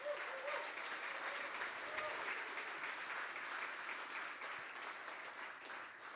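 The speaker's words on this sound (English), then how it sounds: "Can we give them another round of applause?" Sustained applause from an audience for competition finalists at an evening innovation challenge event, a dense steady patter of many hands that fills the room and slowly eases toward the end.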